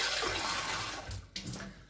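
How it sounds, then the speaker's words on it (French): Cold water is poured slowly into samosa dough, a continuous close splashing and trickling that thins out toward the end, with a brief splash near the finish. "je vais verser vraiment tout doucement l'eau"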